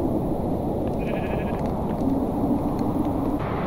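Sheep bleating in the video game Minecraft Java Edition, a few short wavering bleats over a steady, dense background of game ambience.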